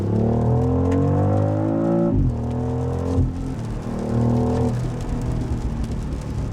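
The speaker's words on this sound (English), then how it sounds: "The B58 is just such a good sounding engine when it's left alone." BMW X3 M50 SUV with the B58 engine in sport mode accelerating hard from inside, rising through the revs, a brief gearshift dip, then climbing again as a loud continuous exhaust roar.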